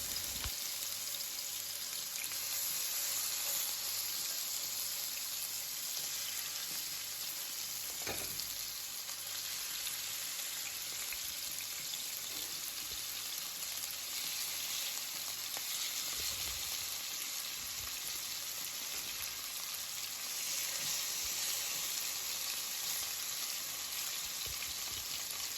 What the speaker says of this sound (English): now I'm going to be adding the chicken pieces to fry